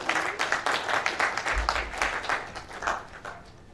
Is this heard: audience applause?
yes